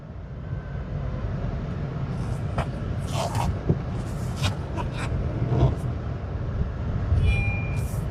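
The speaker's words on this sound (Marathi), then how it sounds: "आता आपण इथून यू टर्न घेऊया।" A used car turns around in a U-turn, giving a steady low engine and road rumble with a few scattered knocks and clicks from close inside the vehicle.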